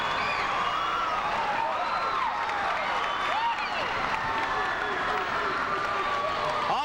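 Loud crowd roar and cheering fill a high school boys' basketball gym, Quincy vs. Rock Island in 1996, after a basket ties the game 52-52 late in the fourth quarter, sustained and dense throughout.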